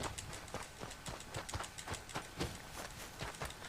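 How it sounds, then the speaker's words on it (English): Horse hooves galloping in a video game, a steady run of quick, evenly spaced clip-clop beats at moderate loudness over a busy game background, with no talk. "What's wrong with this horse?"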